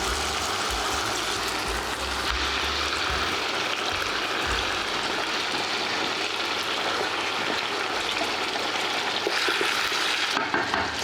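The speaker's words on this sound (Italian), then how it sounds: "iniziamo a mettere dentro le costine" Sausages and pork ribs brown in a hot pan for a stew, a steady loud sizzle and crackle of frying fat with occasional stirring scrapes, continuous throughout and with no talking.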